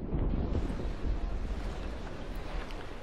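An enemy ship's cannon fires in a video game, a deep booming rumble at the start that rolls off into a long windy wash of low noise.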